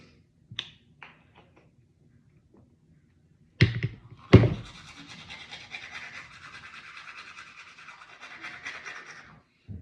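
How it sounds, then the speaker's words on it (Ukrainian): Teeth being brushed with a toothbrush: after a few soft knocks and a louder clatter, a steady scrubbing rasp runs close by for about five seconds, then stops. "буду чистити свої зуби, тому що ну, це ж наше дихання"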